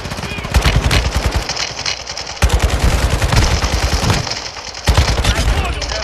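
Rapid bursts of automatic gunfire from a video game rattle loudly in three long volleys, separated by brief pauses, with a voice faintly audible underneath.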